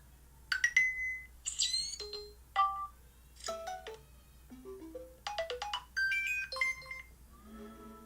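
Mario-style sound effect from an iOS jailbreak tweak, a quick run of bright chiptune blips and chirping tones that rise and fall, quietly played with no talk.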